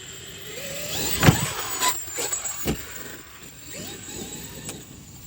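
Traxxas X-Maxx RC car with Vitavon gears driving toward a ramp, electric motor whine rising and falling as it passes, with a couple of sharp thumps from landing, at moderate distance.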